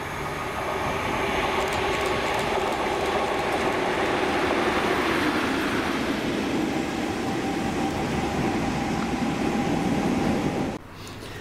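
Class 37 diesel locomotive 37403 hauling a freight working in Scotland, a loud steady engine drone with rumbling wagons rolling past close by, sustained for most of the clip before dropping away abruptly near the end.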